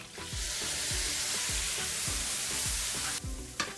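Tomatoes hit hot frying spices in a pan for an okra masala gravy, producing a broad steady sizzle with repeated soft thumps as pieces drop in, close and alone before the hiss briefly cuts away at the end.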